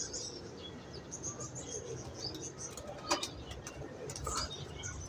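Pigeons at a home pigeon show flutter their wings in soft bursts, with a few sharper flaps and faint coos and chirps over quiet background noise.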